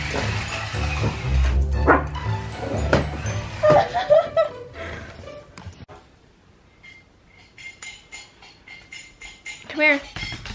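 A Jack Russell and Chihuahua mix barks and yips at a toy car, with sharp close barks in bursts and a few whimpers, while a person talks and laughs nearby.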